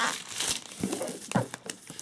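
Shrink wrap is torn off a boxed game expansion by hand, close crinkling and ripping in short uneven bursts.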